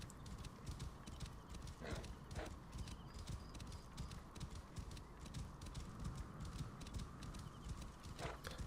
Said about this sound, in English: the horse actually will run faster when it's out in the open